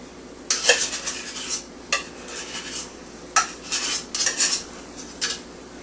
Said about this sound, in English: The first step is creaming the vegetable shortening.